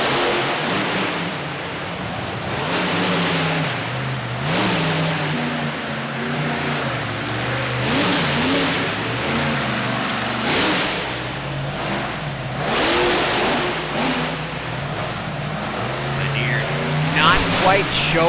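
A monster truck at the Monster Truck Nationals in DuQuoin, Illinois roars and revs in surging waves, its loud engine rising and falling steadily while an announcer talks over it.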